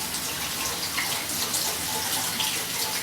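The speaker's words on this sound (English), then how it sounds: "I just like to give it a quick rinse off under some water." Quinoa is rinsed under a running kitchen tap, a steady, close hiss and splash of flowing water that holds even throughout.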